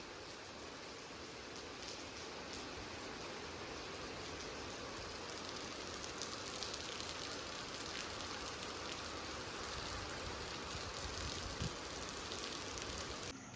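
Steady rain falling under heavy cloud, a dense even hiss of drops on surfaces lasting throughout with no voices.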